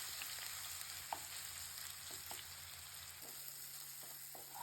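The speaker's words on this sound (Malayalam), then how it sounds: "എണ്ണ ചൂടാക്കാൻ വെച്ചിട്ട് ചിക്കൻ അങ്ങനെ ഇട്ട് കൊടുക്കുന്നുണ്ട്." Chicken pieces fry lightly in hot oil, giving a faint, steady sizzle with a low background hum. Occasional soft clicks sound as the pieces are stirred.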